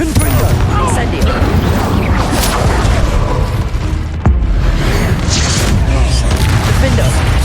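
Spell blasts and booming impacts during combat in Hogwarts Legacy, loud continuous crashes and bursts layered over each other, with someone talking through them.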